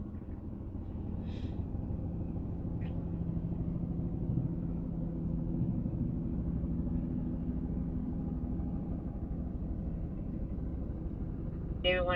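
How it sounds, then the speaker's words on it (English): A low, steady engine rumble, plausibly a helicopter passing overhead, drones continuously throughout with brief faint voices and radio chatter. "You hear the helicopter?"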